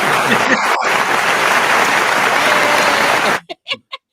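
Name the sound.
clapping to welcome guest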